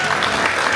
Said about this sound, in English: And give yourselves a huge clap.